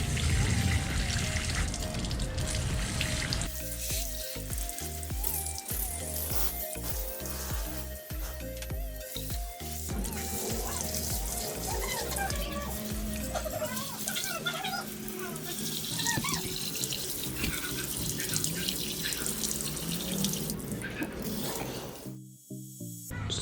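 Water sprays steadily to rinse homemade degreaser off a motorcycle engine, a continuous hissing splash that shifts in tone as the stream moves across the metal and stops abruptly near the end.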